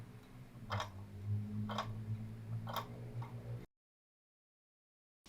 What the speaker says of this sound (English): I also got this cat clock.